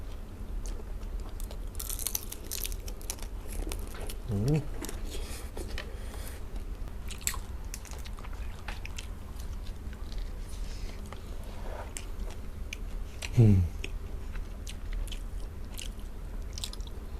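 Someone crunches on crispy fried shrimp heads, close-up bites and chewing with two louder crunches standing out against a soft, continuous mouth-noise background.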